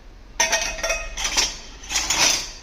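Dishes and steel vessels clatter as they are handled after washing, three bursts of bright clinking and scraping with short pauses between, close and clear with no talk.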